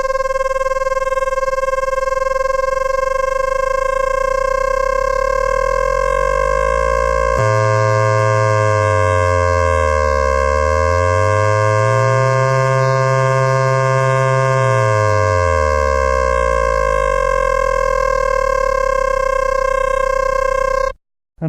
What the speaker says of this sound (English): This is amplitude modulation, which of course produces combination tones when the controlling oscillator is within the audio range.